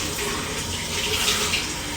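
Titanium mini stove pieces rinsed under a running tap, a steady close rush of water splashing through the whole stretch with no speech.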